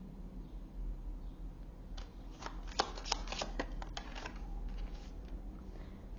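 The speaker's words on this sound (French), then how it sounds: "je vais finir de tirer les cartes" Tarot cards being shuffled and drawn, a soft steady rustle building into a burst of quick riffling flutters and snaps in the middle, then settling back to quiet handling.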